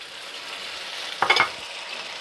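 Chopped garlic is dropped into a hot pan while cooking beef with sweet peppers, producing a brief burst of sizzling and a quick stir over a low steady frying hiss.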